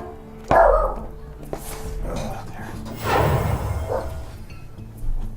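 A dog barks several times indoors, sharp loud barks scattered through the clip, with someone talking over and between them during a Hearthstone game session.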